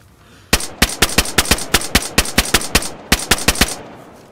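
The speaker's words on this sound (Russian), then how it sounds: "А ему похуй на мои выстрелы." Gunfire in the DayZ Standalone survival shooter: a rapid series of about fifteen loud, sharp shots fired in quick succession with brief gaps, following a short quiet lead-in and with no talking.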